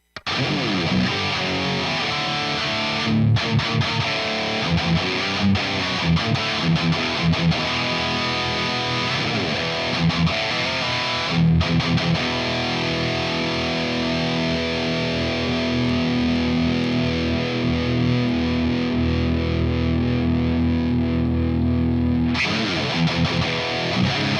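A distorted electric guitar played through a Tonex amp modeler plays sustained chords and riffs with a thick, saturated amp tone, ringing on between short pauses.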